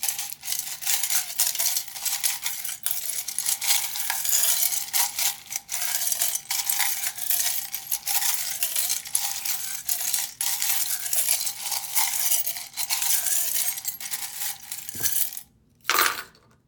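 A handful of small metal charms shaken and cast for a charm-casting reading: loud continuous jingling and rattling, close up, then a short pause and a final sharp clatter as they land.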